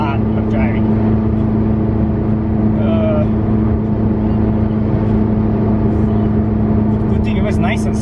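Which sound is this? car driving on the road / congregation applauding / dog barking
car driving on the road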